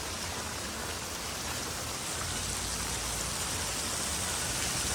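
Heavy rain hisses steadily on surfaces in a flooded Surat market street, a dense, continuous downpour with no other sounds.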